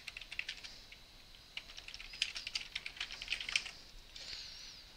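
A computer keyboard is typed on to enter the title of a Google form: a quick run of light, close plastic key clicks with brief pauses, fairly quiet, no talk.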